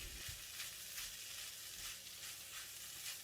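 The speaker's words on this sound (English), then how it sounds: "Stir the rice and seasoning for about 2 minutes or until well combined" Rice with seasoning frying in a pan, stirred with a spatula; a steady soft sizzle with rhythmic scraping strokes, close and continuous, no voices.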